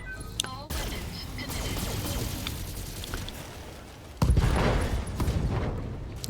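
A mech in the BattleTech strategy game fires all its weapons at once, a rolling barrage of booms and crackling blasts that jumps louder partway through, dense and continuous, with a voice faintly underneath.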